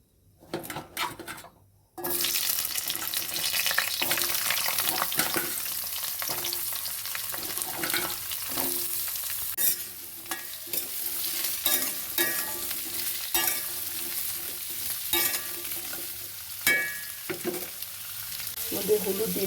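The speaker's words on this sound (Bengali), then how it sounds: "এবার আলুগুলো ভেজে নেবো আমি" Potatoes frying and being stirred in a pan after five-spice and dried red chillies have been fried, a loud continuous sizzle broken by repeated scraping and clinks of a spoon against the pan.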